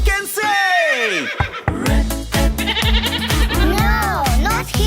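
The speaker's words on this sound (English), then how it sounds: "The horses are waiting on the way." Cartoon horses neigh in a children's train song, a long whinny opening the clip and more whinnies near the end, sung over a bouncy, steady musical backing.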